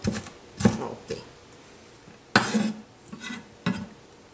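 Knife chopping onion finely on a board for chimichurri sauce: a handful of sharp, separate chops and taps at an irregular pace, close and fairly quiet, with brief pauses between strokes.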